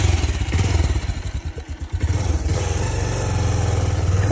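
A motorcycle rides a rough mountain track in Nepal, its engine droning steadily and close with a throbbing pulse and some rattling, loud throughout with no talk.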